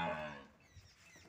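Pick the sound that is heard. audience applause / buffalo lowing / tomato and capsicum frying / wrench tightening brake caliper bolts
buffalo lowing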